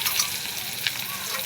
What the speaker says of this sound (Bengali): এবার পেঁয়াজ ফোড়ন দেব। এই দেখুন পেঁয়াজটা ছেড়ে দেবো